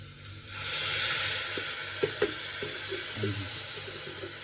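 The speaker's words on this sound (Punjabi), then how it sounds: "ਹੁਣ ਆਪਾਂ ਇੱਥੇ ਪਾਉਣਾ ਪਾਣੀ" Water starts pouring into a pan after a brief quiet moment, a steady loud hiss with a few soft clinks underneath.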